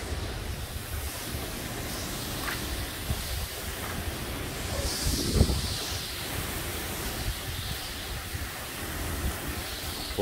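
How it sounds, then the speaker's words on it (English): A sustained roar of Hurricane Ian wind in a backyard with rumbling buffeting against the microphone, swelling into a stronger gust midway, with no talking. "Backyard, the gust of wind hits."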